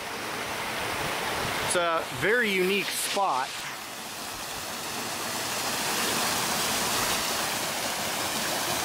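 A river rushes through a canyon with a steady, broad roar close by, and someone speaks briefly over it near the start.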